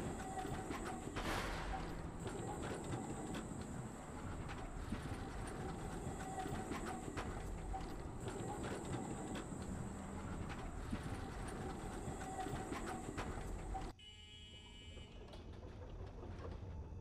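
Tram ride in the video game Abiotic Factor, a steady rolling rumble of wheels on rails with faint clickety-clack, continuous and loud before the sound abruptly thins near the end.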